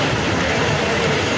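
Interior of a moving passenger train on a trip to Dahanu: a steady, loud rumbling wash of rail and carriage noise fills the short stretch without a break.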